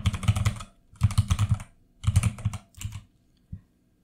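Typing on a computer keyboard comes in four quick bursts of close, crisp key clicks with short pauses between them and a single last keystroke, loud and dry with no voice over it.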